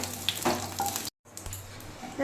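Pointed gourd (potol) frying in oil, a steady close sizzle with a short silent gap midway and faint clinks of a utensil lifting the browned pieces.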